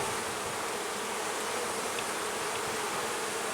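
Honey bees swarm in a dense, steady drone during an inspection of a crowded hive that needs a honey super, close and continuous with no voices.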